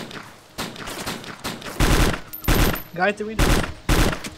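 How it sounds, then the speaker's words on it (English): Gunfire in the survival video game DayZ, several sharp, loud shots in quick succession, some close together like a short burst, with a voice speaking briefly between them. "I shot him."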